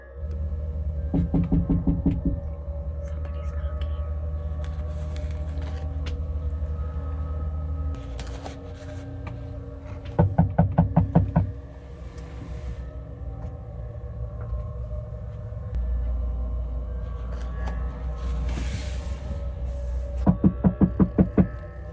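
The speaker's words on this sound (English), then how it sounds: "Someone was tapping on her window, again and again." Bursts of rapid, repeated knocking strike a van window three times, each flurry lasting about a second, over a low steady hum between them.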